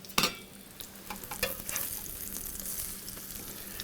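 Baking-powder pancakes fry in a pan with a soft, steady sizzle close by, broken by a few brief scraping and tapping sounds from a spatula.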